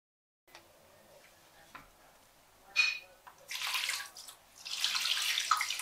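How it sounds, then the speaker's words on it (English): Water pours in two bursts into a shallow basin for suminagashi, a soft hissing splash with a brief pause between, close and moderately loud. "I'm gonna add some water."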